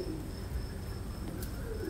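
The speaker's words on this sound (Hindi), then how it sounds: "तुम्हें कबूतरों की आवाज नहीं सुनाई दे रही?" Soft pigeon cooing repeats in the low range over a steady, quiet ambient background at a railway station, with no voices present.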